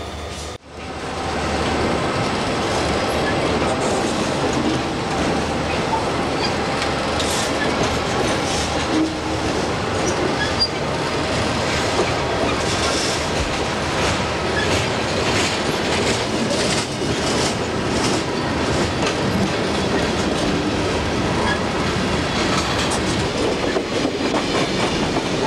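Freight train rail cars rolling through Dunsmuir in 1992 with a steady, loud rumble and wheel clatter from start to finish, occasional clicks and squeals over rail joints, and no voices.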